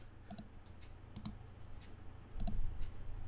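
Sharp computer mouse clicks while editing shape points in PowerPoint, arriving in short pairs at a steady pace, close and fairly quiet over a low hum.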